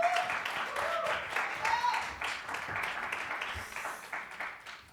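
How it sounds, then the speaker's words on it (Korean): An audience applauds to welcome a high school student onto a stage, steady crowd clapping with a few cheers, tapering slightly toward the end. "박수로 맞이해 주십시오"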